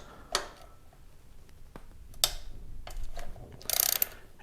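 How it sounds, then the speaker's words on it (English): A 7/16 socket wrench loosens the snug cylinder head bolts on a 2015 Harley-Davidson Street Glide, giving a few scattered close clicks and creaks and a brief burst of rapid ratcheting near the end. "Okay, now I'm going to take off the bolts to both heads."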